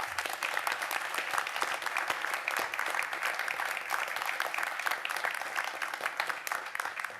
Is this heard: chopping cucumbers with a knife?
no